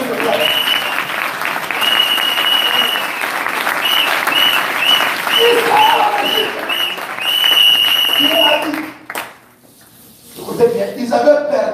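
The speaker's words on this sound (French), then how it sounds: "Acclamez encore une fois, s'il te plaît." Loud church applause at a gospel service in Dakar, thick continuous clapping with cheers and cries for about nine seconds before it drops off and a voice starts speaking.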